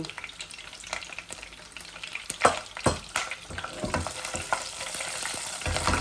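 Two pieces of cinnamon, two cardamom pods and three cloves fry in oil alongside bay leaves and cumin, giving a steady sizzle broken by sharp clatters and scrapes of stirring, loudest around the middle.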